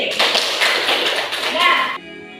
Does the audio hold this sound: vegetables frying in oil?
no